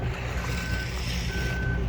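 A concrete truck at a sidewalk pour sends out a steady reversing beep over a heavy, constant diesel engine rumble, close and loud throughout.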